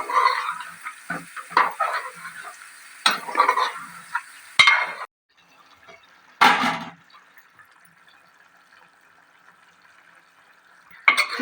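A spoon scrapes and stirs thick chicken curry in a pan. Several bursts of wet stirring and scraping come close together, followed by a long quiet stretch with a faint simmer and a final scrape.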